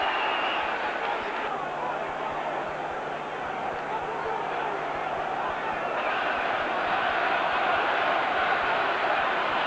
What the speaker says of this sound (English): The crowd are really going for this one